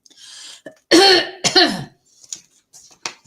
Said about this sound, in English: I've got a cough now.